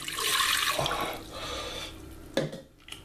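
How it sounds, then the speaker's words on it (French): Water poured into the bowl of a Companion food processor while preparing baguette dough, a steady broadband splash for about two seconds that stops, followed by a few faint drips and clinks nearby. "on va commencer par l'eau qu'on met dans le compagnon"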